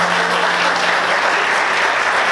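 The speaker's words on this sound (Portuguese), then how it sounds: "Você pode aplaudir Jesus por isso?" A church congregation applauds loudly and steadily throughout, a dense wash of clapping with no pauses and no speech over it.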